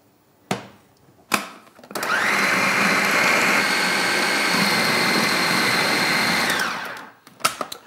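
A food processor whizzes chickpeas with olive oil and chickpea cooking water into a creamy purée, running loud and steady for about five seconds after a couple of sharp knocks, then cutting off.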